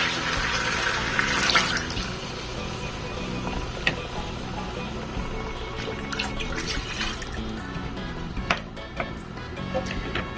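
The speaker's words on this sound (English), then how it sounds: "Now I'm going to add in my 2 tins of coconut milk." Two tins of coconut milk pour steadily into a cooking pot for Guyanese metemgee, a continuous liquid splashing and trickling close by, with a few sharp clinks of the tins against the pot.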